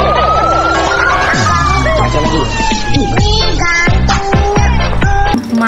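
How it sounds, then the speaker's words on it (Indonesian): A loud electronic siren from a toy ambulance truck wailing and warbling close up, cycling through shifting tones with overlapping beeps and chirps. "kalau yang ini namanya truk ambulan"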